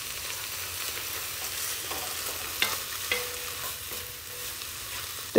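Tomato paste is stirred into frying onion, garlic and vegetables in a pan for a vegetarian shepherd's pie, steady sizzling with scraping spoon strokes and a few sharp clinks, close up with no talking.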